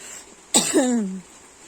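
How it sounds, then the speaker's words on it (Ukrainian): A single harsh cough up close, quick and raspy, with a short throaty tail trailing off into quiet room tone. "На жаль, кашель в мене ще ще є."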